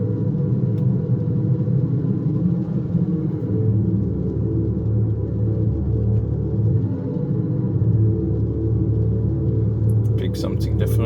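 A GLYDSPHERE EV active exhaust system plays a simulated engine through an electric car's speakers, a steady, deep, throbbing rumble like an idling motor, loud and continuous, with a few faint clicks near the end.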